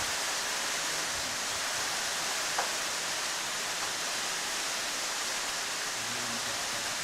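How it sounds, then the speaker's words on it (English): Heavy rain pours steadily outside during a croquet final between the USA and Egypt, heard from indoors as an even, dense hiss with no voices. "Now getting even heavier rain."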